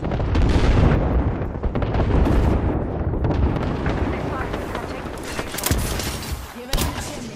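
Airstrike explosions in Apex Legends: a dense, loud barrage of booming blasts that rolls on continuously, with a few sharper impacts near the end.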